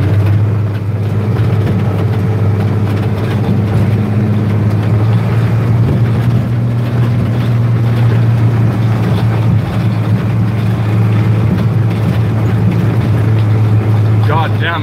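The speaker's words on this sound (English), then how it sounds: "We'll listen to the old 540 V8 scream for a little bit over there." An old 540 V8 farm truck engine roars loud and steady at high revs throughout, a rough continuous drone with no pauses.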